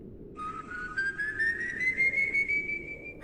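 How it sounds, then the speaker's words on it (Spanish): A long, thin whistled melody rises slowly in pitch and holds steady over a low, windy background rumble, sounding as if heard at night outdoors while sweeping. "Un silbido, largo, sutil, con una melodía imposible de describir."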